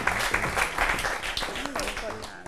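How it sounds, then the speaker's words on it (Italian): Brief applause from a studio audience on an Italian TV talent show, mixed with a host's talk and background music. "Facciamo un applauso a Natascia"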